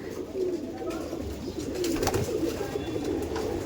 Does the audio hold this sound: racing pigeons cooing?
yes